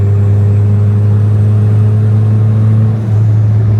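Close and loud, a turbocharged Honda Civic with a custom full exhaust drones steadily under acceleration in fifth gear, a constant deep rumble with a slight dip near the end.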